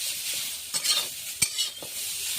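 Food is stirred in a pan with just a little oil under a soft, steady sizzle, with a few brief scraping strokes of a utensil standing out.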